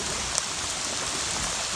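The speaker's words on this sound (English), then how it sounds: "And it's still raining." Heavy, continuous rain during a flood, a dense, even hiss close to the listener with one faint tap, and nobody talking.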